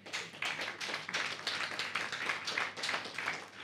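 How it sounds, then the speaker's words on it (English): An audience at a Rivonia Trial commemoration applauds, a lively, fairly close patter of many hands clapping at a steady pace with small swells, and no clear speech on top. "why you applaud a criminal of that nature."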